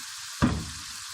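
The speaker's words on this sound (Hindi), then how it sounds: "टमाटर गलने तक हम पकाएंगे।" Tomatoes cook in a pan for chickpea curry, with a single short burst of sizzle and a stirring scrape standing out against a quiet, low background.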